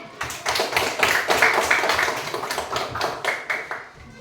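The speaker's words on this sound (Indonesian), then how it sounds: "Tepuk tangan" Elementary school classroom applause for the most active group, a close, loud burst of many children clapping in an energetic, slightly rhythmic patter that swells and then trails off near the end.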